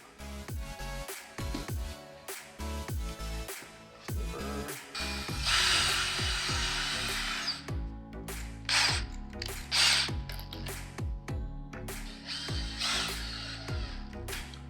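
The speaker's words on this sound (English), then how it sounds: "All right, time to screw in some of the support braces for our rings, just to kind of hold them all together." Screws being driven into wooden support braces with a power tool, repeated whirring bursts with ratcheting clicks and wood creaks, close and fairly loud, no talk.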